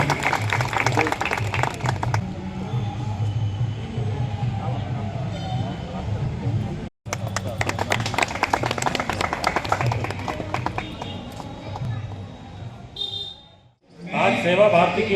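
An audience at a public gathering on district hospital grounds in Chhindwara claps in dense, lively bursts, with a brief break in the middle, while voices talk over and between the applause.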